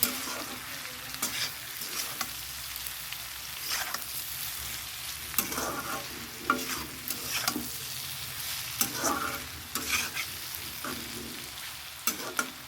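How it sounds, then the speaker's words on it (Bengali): Potatoes frying in a pan give a quiet continuous sizzle, with repeated scraping and clinking strokes as they are stirred at an uneven rhythm. "আলুটা মোটামুটি হয়ে এসছে তবে আর একটু ভালো করে ভাজা হবে"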